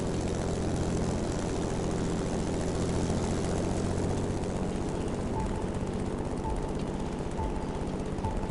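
A Mustang propeller plane in The Crew Motorfest held at full throttle, its engine a steady, unbroken drone with a low rumble and no pause, running throughout.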